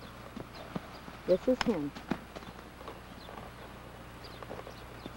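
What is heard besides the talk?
Friesian gelding horse hooves clip-clopping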